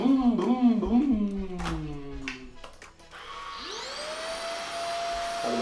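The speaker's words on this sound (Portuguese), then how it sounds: "agora vamos testar o aspirador e ver se ele é bom" A Moosoo cordless vacuum cleaner switches on partway through, spinning up into a steady high whine with airy suction noise. Brief vocal sounds and light handling noises come before it starts.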